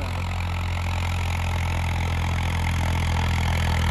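A tractor engine runs steadily at constant RPM on 14-inch tyres, a loud continuous low drone with no pauses and no speech.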